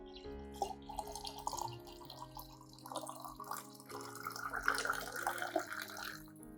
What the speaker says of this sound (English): Add 400 milliliters of clean water at room temperature